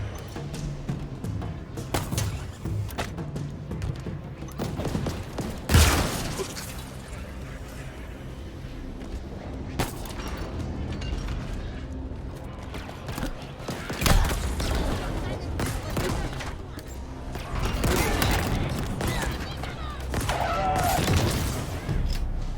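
Rapid gunfire from a weapon in the Halo Infinite video game, with bursts and booming impacts layered over mechanical clatter and game sounds, loud and continuous throughout.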